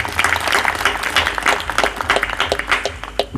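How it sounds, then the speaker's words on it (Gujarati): Crowd of devotees clapping at a satsang gathering on Vaishakh Purnima, a lively, uneven patter of many hands close by, with faint voices underneath. "એમને તાળીઓથી વધાવીએ."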